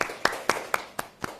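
A short round of classroom clapping for a student, six evenly spaced claps in a steady rhythm, close and moderately loud.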